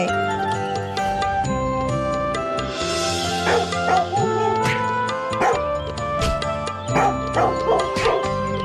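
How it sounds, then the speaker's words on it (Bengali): Cartoon dog yelping and whimpering while being beaten with a stick, with repeated sharp yips and cries over continuous background music. "এই কুকুরটাকে এভাবে বেধড়ক মারছো কেন?"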